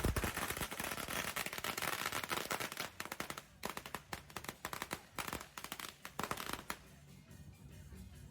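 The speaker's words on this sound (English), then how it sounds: "Firecrackers erupted in rapid bursts all around us" Firecrackers burst in dense, rapid strings at a Thai shrine during a spirit-medium ceremony, crackling continuously and loudly at first, then breaking into sharper separate pops and clusters.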